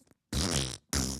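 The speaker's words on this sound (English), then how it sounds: "all kinds of fart sounds." Two blaring fart noises, the first longer and the second short and abrupt, separated by a brief silence.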